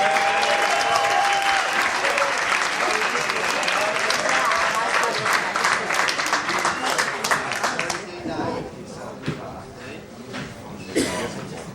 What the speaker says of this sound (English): If you would give a rousing round of applause for the Hemp Hall Extravaganza.